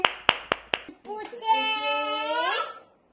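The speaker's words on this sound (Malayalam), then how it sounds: "എല്ലാവരും വേഗം കൈയടിച്ചേ" A few sharp hand claps come first, then a voice sings or calls out a drawn-out tone. The scene is a first-grade classroom lesson with children.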